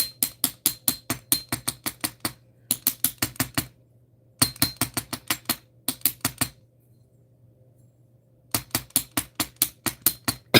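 Rapid, evenly spaced metallic strikes from an Impress Art hammer in bursts of about a dozen, separated by short pauses, close and loud with a steady hum underneath.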